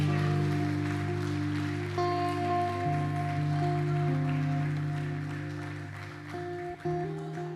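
A church congregation applauding during a worship service, a steady wash of clapping beneath sustained keyboard chords that shift every few seconds, continuous and fairly loud.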